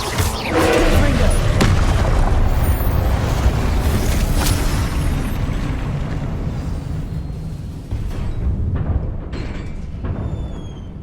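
Confringo explosive spells from Hogwarts Legacy go off in loud, booming blasts with rumbling low crackle, layered over a dense game soundscape for the whole stretch, with a brief dip partway through before the din resumes.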